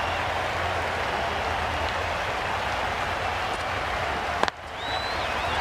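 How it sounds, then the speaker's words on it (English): Stadium crowd at an IPL cricket match roaring after a six, a dense, steady wash of cheering and noise filling the air, with a brief sharp knock near the end before the roar dips slightly and swells again. "Will you listen to the crowd? They are loving it."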